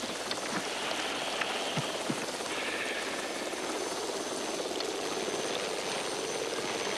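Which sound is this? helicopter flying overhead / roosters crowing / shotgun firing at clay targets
helicopter flying overhead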